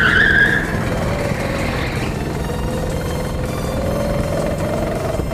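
A vehicle brakes hard, with a sharp high tire squeal in the first two seconds that fades into a lingering engine whine and rumble.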